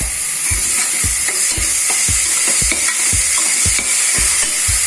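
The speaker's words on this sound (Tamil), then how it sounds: "இப்போ இஞ்சி பூண்டு போட்டு 2 வதங்கின அப்புறமா கொஞ்சமாக உப்பு போட்டுக்குங்க." Ginger and garlic fry in a pan for mutton pepper thokku: a steady close sizzle is punctuated by rhythmic low thuds and scrapes of a spoon stirring roughly twice a second, with no voices.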